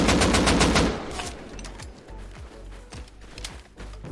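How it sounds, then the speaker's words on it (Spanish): Rapid gunfire in the survival video game Rust, with bursts of automatic shots close and loud at the start, then scattered sharper single shots continuing over a low rumbling background. "Me disparan."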